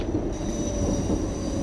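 A London Underground train rumbles through a tunnel in London Underground Simulator, a steady close roar with a thin high whine of the wheels and no voices.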